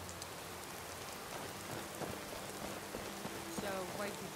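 Steady rain patters throughout a Skyrim storm, with a faint low rumble underneath and no voices.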